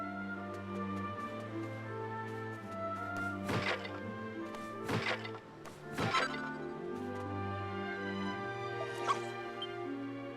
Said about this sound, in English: We can pet the puppy.